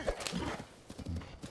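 A horse in Zelda: Tears of the Kingdom clip-clops along with soft hoof beats and a brief whinny, faint and close, with no one talking over it.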